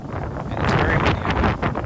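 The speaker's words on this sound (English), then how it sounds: "And it's very windy." Strong wind buffets the microphone beside a 1995 Toyota Land Cruiser FZJ80, producing a loud, continuous rushing roar that swells and dips slightly.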